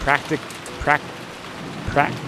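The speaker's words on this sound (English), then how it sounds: "Outside, the rain was incredible, and the wind strong." Heavy rain and strong wind in Umineko: When They Cry form a faint, steady wash of noise throughout, with three short vocal sounds rising above it.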